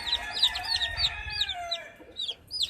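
Many gamefowl chicks peep continuously in a brooder, their bright rising chirps overlapping in a busy chorus close by, with faint low rustling beneath and no talking.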